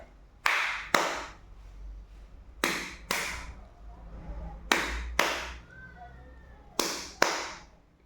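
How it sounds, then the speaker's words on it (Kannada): Sharp classroom handclaps in repeated pairs, four double-claps evenly spaced in a steady rhythmic pattern, crisp and close with quiet gaps between. "ಇದು ಟ್ರಿನ್ ಟ್ರಿನ್ ಚಪ್ಪಾಳೆ"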